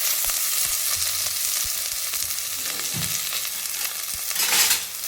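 Onion and garlic fry in cooking oil with cinnamon and cloves for a pea curry, giving a steady close sizzle with occasional stirring scrapes and no voices.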